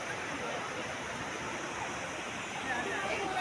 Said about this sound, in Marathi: नदी आहे नदी